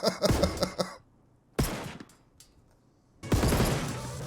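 A player in the game Marauders fires a single shot at his own head, heard as a sharp, loud gunshot burst alone, followed by a second report and a sustained rumbling roll of fire.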